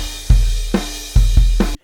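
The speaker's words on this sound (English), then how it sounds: "Here's a drum kit, and with no plugins on there, it sounds like this." A dry, unprocessed acoustic drum kit plays a short phrase of four punchy hits of kick and snare, close and loud, then cuts off.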